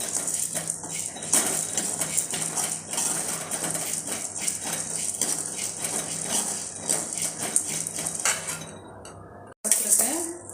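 Urad dal roasting in a pan for ulundhu kali, with a utensil scraping and clinking steadily against the metal in repeated strokes, close and moderately loud, a brief pause near the end.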